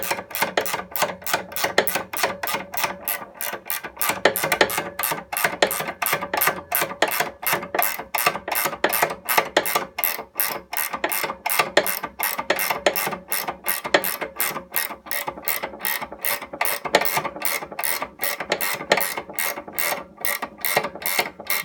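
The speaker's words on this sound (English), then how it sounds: "I'll take my ratchet wrench." A ratchet wrench clicks rapidly and steadily while turning a fastener on a Wright Stander mower during a belt replacement, the close, even clatter running continuously throughout without talk.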